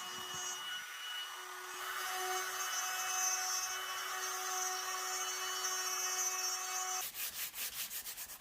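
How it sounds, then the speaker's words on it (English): Palm router cutting stencilled letters into a wooden name plaque for a raised dog feeding station, a steady high whine with rough grinding texture running continuously, ending in a few rhythmic pulsing passes. "then I used my palm router to carefully cut the letters out"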